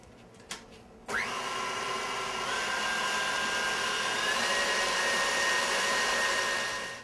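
An electric mixer switches on after a couple of faint clicks and whirs steadily at close range, whipping cream with sifted powdered sugar toward medium peaks, its motor pitch rising slightly as it runs.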